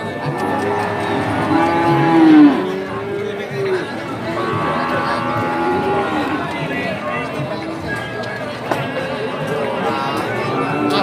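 Bulls at a cattle market in Purwantoro, Wonogiri, Central Java: occasional low moos and animal calls rise out of a busy bed of crowd chatter and nearby talking voices, steady throughout.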